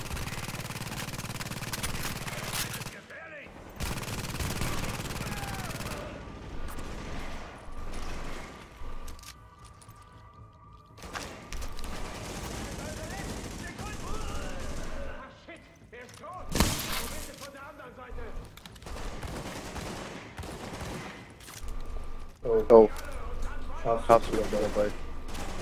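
Gunfire in the shooter game Tom Clancy's The Division, with bursts of shots and rattling weapon mechanics scattered across the scene, mixed with a speaking voice throughout.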